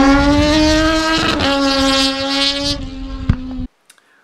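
A Triumph Moto2 racing motorcycle engine runs at a high, steady rev with a strong buzzing tone, drops slightly, then cuts off abruptly, leaving near silence.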